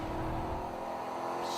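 Stock race cars with over 700 horsepower roar around a short track at the Sioux Chief PowerPEX 200, a loud, sustained engine drone close by that swells slightly toward the end.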